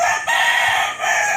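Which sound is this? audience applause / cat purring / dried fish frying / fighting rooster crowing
fighting rooster crowing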